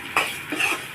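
A spoon stirs ginger, chili powder, sambar powder and salt together in a pan, two close scraping strokes over a soft sizzle, brief and fairly loud.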